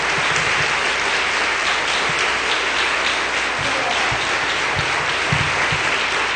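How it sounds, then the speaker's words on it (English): Steady applause from a crowd, hands clapping continuously and evenly throughout with a few louder individual claps standing out. "Receive this praise in clapping of hands."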